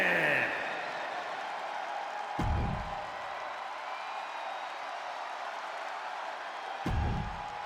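A WWE video game crowd applauds and cheers for a World Heavyweight Championship match, a steady wash of distant crowd noise broken by two dull low thumps.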